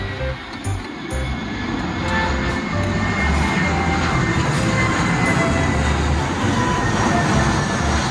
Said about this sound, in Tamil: மேல ஃபிளைட் போக போகுது.